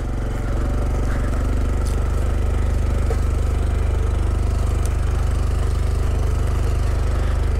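Honda Trail 125 motorcycle engine bogging down while riding a wooded trail, a steady low rumbling drone close by with no pauses.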